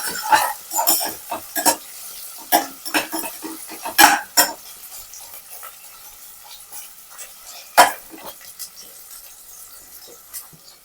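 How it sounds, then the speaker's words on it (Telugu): Small chopped onions stirred in a pan for pudina flavoured rice, a series of sharp spoon scrapes and clinks against the metal pan at irregular intervals, close by with a faint sizzle between strokes. "ఈ ఉల్లిపాయలు ఒకసారి అయితే కలిపేసుకుందాం"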